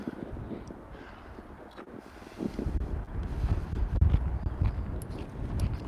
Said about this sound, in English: This is the highest wind zone right here, too.